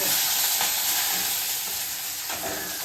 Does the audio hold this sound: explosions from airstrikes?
no